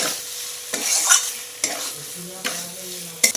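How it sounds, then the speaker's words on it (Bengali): Potatoes fry in spices in a pan before duck eggs are added, giving a steady soft sizzle broken by a few sharp scraping stirs of a utensil, close and with no talk. "তারপরে আলুগুলো দিয়ে একবার ভেজে নেব"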